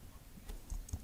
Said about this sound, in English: Now you type in the IP that Hamachi gives you.